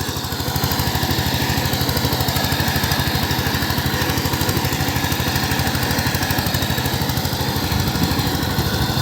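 A 16 hp power tiller ploughing a waterlogged, muddy field, its engine chugging in a steady rapid rhythm, loud and close throughout with no talk.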